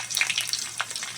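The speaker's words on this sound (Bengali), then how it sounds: "তেল গরম হয়ে গেছে, 5 ফোড়ন দিয়ে দেবো।" Panch phoron spices dropped into hot oil, a bright crackling sizzle with quick pops and spits, close and lively over about a second.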